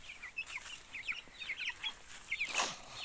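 A domestic hen clucks with quick, repeated calls close by, coming in short clusters with brief pauses between them. A sharper, brighter burst of noise sounds near the end.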